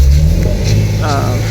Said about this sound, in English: That car sounds horrible.